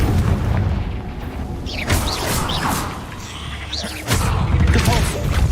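Repeated Confringo fire-explosion spells cast inside a cave in Hogwarts Legacy, a dense, rumbling barrage of booming blasts with sharp crackling bursts over continuous loud low roar.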